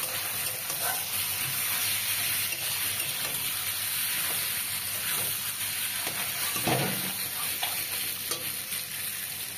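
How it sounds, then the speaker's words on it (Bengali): Split green chillies and a little turmeric sizzle steadily in hot oil, a close, continuous frying hiss with occasional stirring scrapes and no talking. "কতগুলো চেরা কাঁচা লঙ্কা তেলের ওপরে দিয়ে দিলাম।"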